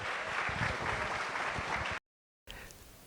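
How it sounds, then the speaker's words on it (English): An audience at a 2018 presentation on the science of Black hair gives sustained applause for a speaker. Dense, even clapping fills the room, cuts off, then resumes more quietly. "if we can give a big round of applause for Natasha"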